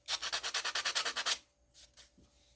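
Sandpaper swipes rapidly back and forth on a battery box part, about a dozen close, rhythmic scratchy strokes, followed by a pause and two softer brushing rubs.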